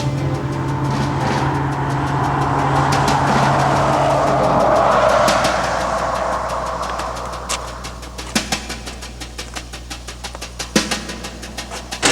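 A car drives along with a steady engine roar for several seconds, which then fades away, leaving only scattered clicks and light knocks.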